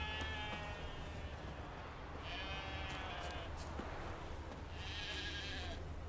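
Sheep bleating in The Witcher 3, several drawn-out bleats at moderate distance over a steady ambient bed of game wind and background, with someone talking at times.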